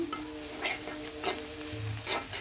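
Whole chicken frying in a pot with onions and whole garam masala spices, a steady close sizzle broken by a few sharp scraping stirs of a spoon, with no talking.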